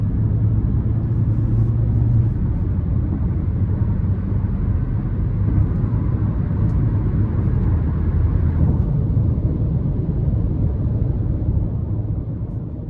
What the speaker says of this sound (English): So starting the test drive in this 2024 Kona SE.